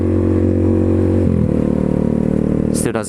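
A motorcycle engine idles loudly, recorded with the microphone right at the end of the exhaust, a deep, steady rumble with a slight pitch change midway and a brief sharper sound at the end.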